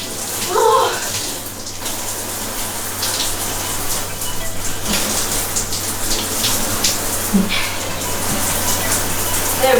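Water runs steadily from a tap or shower while someone rinses off after a cold water plunge, a continuous close gushing with splashes, and a person is briefly heard talking over it.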